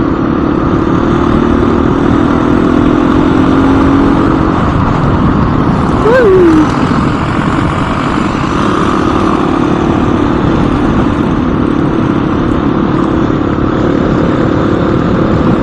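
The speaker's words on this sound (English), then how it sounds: "Ryan, so you got a new Husqvarna FX350" A Husqvarna FX350 dirt bike roars loud and steady while being ridden, with a brief rising engine whine partway through and constant wind and drone underneath.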